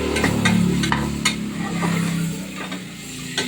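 A spoon stirs egg biryani ingredients frying in a pot, with soft sizzling and a few light metallic clinks against the pan over a steady frying hiss.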